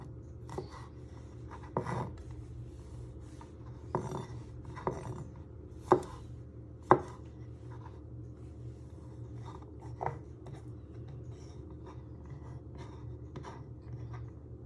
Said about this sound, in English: you just want to slice it into little pieces, into fine